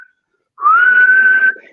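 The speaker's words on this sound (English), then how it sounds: "They had plastic bottles that were whistles. They looked like beer bottles." A plastic whistle shaped like a beer bottle gives a single sustained tone, rising slightly at the start and then holding steady for about a second, loud and close, with no talking.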